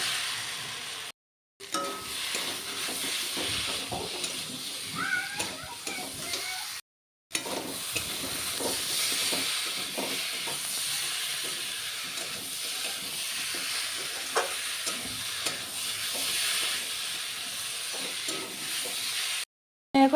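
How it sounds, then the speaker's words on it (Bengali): Fried potato and jackfruit go into a sizzling, oil-rich masala for a Bengali jackfruit-and-prawn curry, giving a steady close hiss with faint stirring clicks, broken by two brief silences. "এখন আমি ভেজে রাখা আলু আর এঁচোড়টা দিয়ে দেব।"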